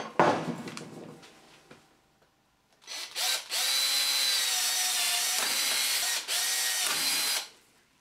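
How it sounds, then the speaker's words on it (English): A power drill bores a hole through a roughly 10mm plastic tube. A brief knock and handling noise comes first, then a loud, steady motor whine runs for about four and a half seconds with one short dip before it stops. "So the first thing is to drill a hole through this tube."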